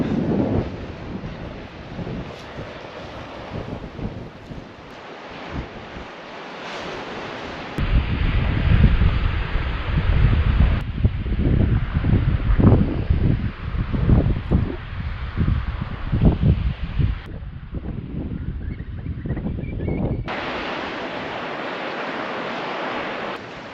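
Strong wind buffets a seaside patio at a lighthouse hotel on the coast near Kirkcolm, gusting roughly and roaring against the microphone with a surf-like rush that swells and drops in waves.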